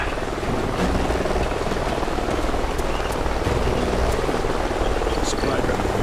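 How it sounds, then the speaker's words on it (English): Helicopter rotors in Call of Duty Ghosts gameplay, a loud continuous thudding drone in a canyon setting, steady throughout with brief sharper clicks layered over it. "Sounds like a chopper's up ahead of us."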